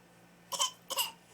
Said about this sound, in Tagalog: Wow, may ubo.